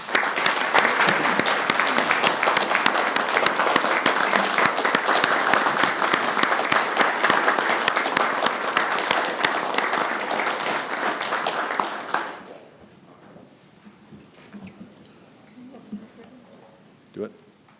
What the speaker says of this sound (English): One more round of applause for the young man, please.